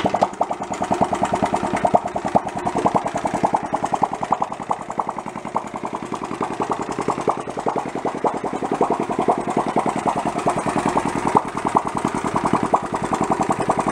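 A worn-out Honda Trail 70 engine idles close by with a loud, rapid, rough putter of even pulses. It stays steady and uninterrupted with no voices.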